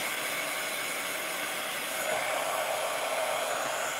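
A hair dryer blows steadily on wet chalk paste over a carrot-nose stencil design, a continuous close, loud whooshing hiss with no speech, slightly stronger in the second half.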